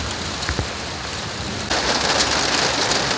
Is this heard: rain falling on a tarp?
yes